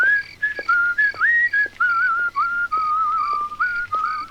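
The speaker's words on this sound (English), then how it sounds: "You can whistle away now." A person whistles a wandering melody, clear and close, with short breaks between phrases.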